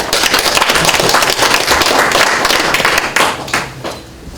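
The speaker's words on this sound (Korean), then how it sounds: "박수 한분더 보내주시기 바랍니다." Loud, close clapping from a crowd at a Korean political campaign event in Cheongju, a dense, vigorous burst of many hands that stays strong before tapering off over the last second.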